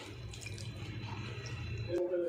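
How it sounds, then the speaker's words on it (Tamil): Sago pearls being rinsed in a bowl of water in a kitchen, with soft steady swishing and light trickling sounds close by, then a brief brighter splash near the end; no voices. "ஒரு டைம் தண்ணியில் வாஷ் பண்ணிக்கலாம்"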